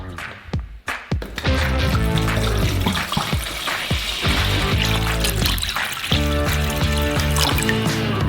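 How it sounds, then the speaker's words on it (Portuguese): Water pours steadily into a container while brine is being made for curing ox tongue; the flow runs continuously for several seconds, fairly loud and close. "Despejamos água em um recipiente."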